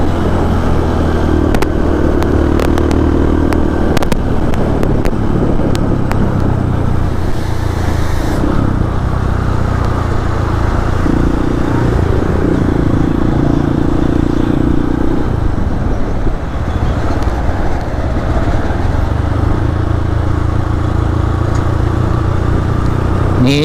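A large truck on a winding mountain road in Indonesia, its engine a loud, continuous rumbling drone that swells and dips as the gears and speed change, with no voices.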